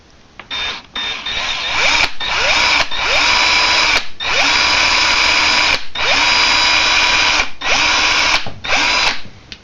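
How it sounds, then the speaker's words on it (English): A power drill bores apart a die-cast Hot Wheels Nomad toy car in loud, close bursts, the motor whining for a second or two at a time with short pauses and brief clicks between runs. "stop every few seconds and clean your drill bit out so you don't risk popping a drill bit"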